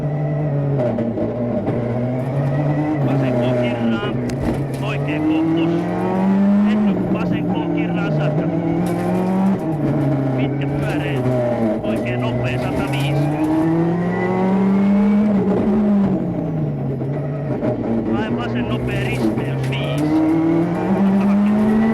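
A Skoda Octavia World Rally car races through a 2002 Rally Catalunya stage, its engine loud and continuous with rising and falling revs throughout, under steady talk from the co-driver reading pace notes.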